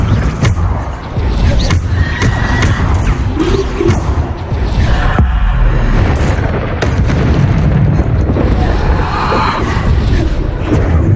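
Repeated Bombarda blasting spell explosions from Hogwarts Legacy boom and crash loudly, with heavy rumbling impacts and smashing bursts piling up continuously over a steady roar of battle noise.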